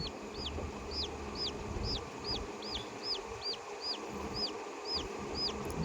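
A brooding hen that has just hatched chicks clucks repeatedly in short, evenly spaced calls over a steady outdoor background hum, fairly close and moderately loud.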